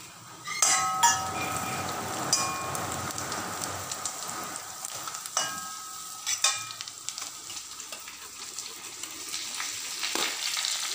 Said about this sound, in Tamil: 2 ஸ்பூன் சோம்பு போட்டு வறுத்துக்கிறோம்.